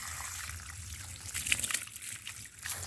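Water trickling and splashing while coconut fibre husk is washed, a steady close dribble with brief louder splashes and no talk.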